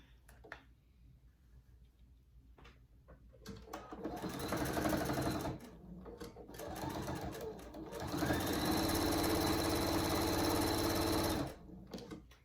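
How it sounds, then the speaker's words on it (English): A sewing machine stitches around the sides of a fabric animal hammock in close, steady whirring runs that grow louder and longer, with brief pauses and small clicks between passes. "we're going to sew around all four sides, leaving about a 5-inch gap on one end"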